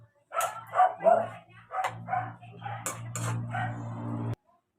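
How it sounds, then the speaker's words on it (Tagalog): A dog barks several times nearby while a person talks, with a steady low hum underneath that cuts off abruptly near the end. "Ang ingay ng aso ha."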